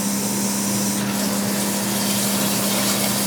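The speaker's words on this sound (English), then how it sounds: "we're just going to wash this rice" Tap water runs steadily into a pot while rice is washed for pilau, a continuous hissing gush with a low steady hum beneath, close and even throughout with no voices.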